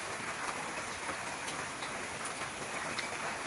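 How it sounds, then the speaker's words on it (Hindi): Heavy rain pours down in the Sundarbans jungle, a dense, continuous hiss of drops striking leaves and ground, steady and enveloping throughout. "गड़गड़ाहट की आवाज और तेज बारिश शुरू होती है"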